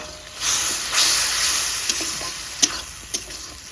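Tomato and a little water going into a simmering home-style chicken curry masala in a pan, a steady soft sizzle and hiss with a few faint stirring clinks, close and fairly quiet.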